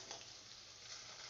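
Langcha sweets frying in oil in a home kitchen, giving a steady, close, continuous sizzle with no voices over it.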